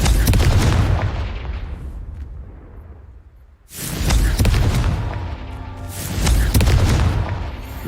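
A Confringo blasting curse in Hogwarts Legacy goes off in heavy booming explosions: a loud blast that fades away, a brief lull, then a second powerful boom followed by another rumbling burst.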